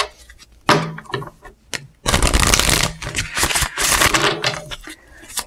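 An Angel Answers oracle card deck being shuffled, with brisk riffling card noise in repeated bursts, a short pause, then a long continuous shuffle close up.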